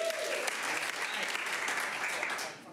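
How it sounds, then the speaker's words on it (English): An audience at Curious Comedy claps in a full, steady burst of applause with a few scattered shouts, holding loud until it tapers off at the very end. "Round of applause if you've been to Curious Comedy before."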